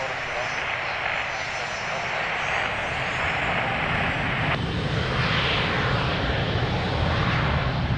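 Airliner engines roar steadily at Lisbon Airport during takeoff on runway 02, a loud continuous broadband rumble that swells slightly toward the end, with radio voices talking over it.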